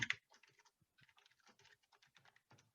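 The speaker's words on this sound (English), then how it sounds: "And let me type that in the chat." Typing on a computer keyboard, a quiet run of irregular light key clicks close by, with a sharper tap at the start and short pauses between bursts.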